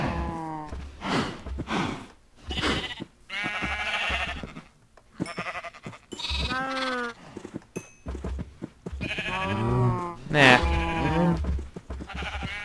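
Several loud, wavering sheep bleats from the video game Minecraft come in irregular bursts one after another, close and clear, with brief pauses between calls.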